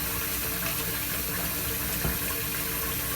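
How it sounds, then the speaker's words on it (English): Cold water runs steadily from a bathroom sink tap, a continuous close hiss of flowing and splashing water with one brief louder splash near the middle. "Splash it with cold water because cold water tightens your pores apparently."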